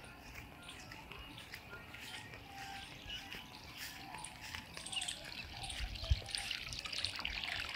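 Water from a 2 HP borewell motor pump pours and trickles steadily, faint and continuous, with a soft splashing rush and a brief thump near the end.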